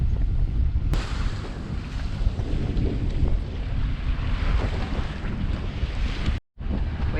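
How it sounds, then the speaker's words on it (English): Strong wind and rough sea aboard a sailboat, a loud, steady roar of wind buffeting the microphone over rushing water, with a brief dropout near the end. "we encountered stronger winds and rougher seas than we had anticipated"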